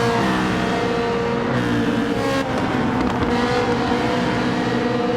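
A race car engine in Gran Turismo 7 at Yas Marina holds a steady high-revving drone, with a short lift and shift before pulling on again, loud and close throughout.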